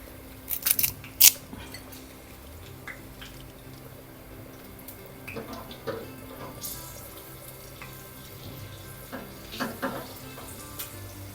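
Three green chillies split in two fry in a little hot oil for a fish curry, a soft, steady sizzle broken by a few sharp clinks and clatters of utensils near the start.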